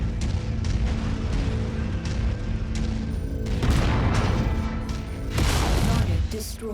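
Heavy mech weapons firing in the video game Mechwarrior 5 Mercenaries, a dense, loud barrage of booming blasts and crackling bursts that swells in waves over a constant low rumble, with a voice talking in between.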